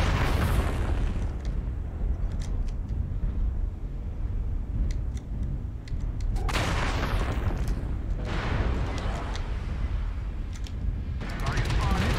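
Madcat MkII mech weapons firing in MechWarrior Online, loud rumbling cannon and laser bursts in several heavy volleys with booming impacts, under bursts of radio-style talk.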